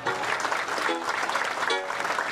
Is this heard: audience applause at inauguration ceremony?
yes